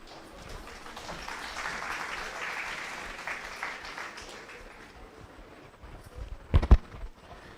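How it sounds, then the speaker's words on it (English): Audience at an international seminar applauding, a soft, scattered clapping that swells and then tapers off, with a few louder close handling knocks near the end. "With a warm round of applause."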